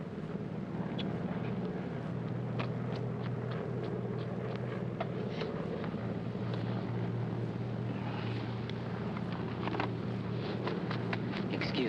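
Steady low engine drone inside the passenger cabin of a propeller airliner of the late 1940s, a continuous hum running unbroken throughout with faint clinks and small cabin noises on top, no talk.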